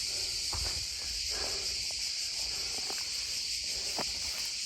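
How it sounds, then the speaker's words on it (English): Loud crickets chirp steadily outdoors as a dense, continuous high-pitched drone, with occasional soft footsteps and rustling underneath. "these crickets must be the loudest crickets in the world."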